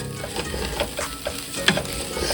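Jambalaya with shrimp, sausage and chicken stirred in a pot, a steady close sizzle with repeated scraping strokes of the spoon throughout, no voices.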